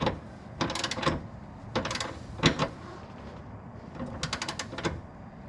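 Ratcheting wrench tightening a nut on a Chevrolet Cobalt front chassis brace, with several quick bursts of clicking separated by short pauses, close and fairly quiet.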